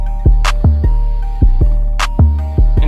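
808 bass with the sustain turned down and the decay shortened, thumping in short, deep notes about every half second, each clipped quickly, loud and alone with a sharp click at each attack.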